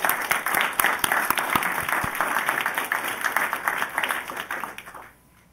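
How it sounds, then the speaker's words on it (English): Applause from an audience at a city council proclamation ceremony in Rockville, a dense steady patter of many hands clapping for about five seconds, then fading out abruptly at the end. "Please join me in applauding their efforts"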